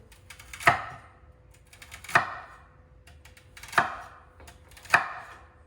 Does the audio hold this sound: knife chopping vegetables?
yes